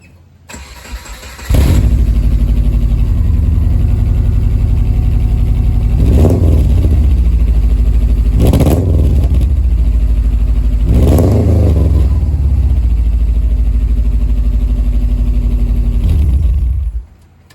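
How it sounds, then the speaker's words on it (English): A Subaru Forester engine with a custom exhaust and unequal length header cranks and starts, then idles loudly with a deep, rumbling exhaust, blipped up in three sharp revs before cutting off. "A custom exhaust, as you can see. We'll do a quick startup."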